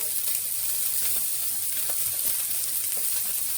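Prawns sear in a hot pan with a steady, close sizzle and faint crackling pops, a continuous bright hiss with no talking.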